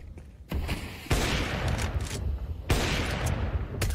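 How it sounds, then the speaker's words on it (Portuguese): Gunfire in a Counter-Strike professional match, Imperial versus Team One, comes in loud bursts of rapid shots with short gaps between volleys, close and dominant. "o Fallen errou o tiro"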